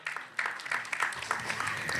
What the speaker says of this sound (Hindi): एक बार जानवी के लिए जोरदार ताली हो जाएगा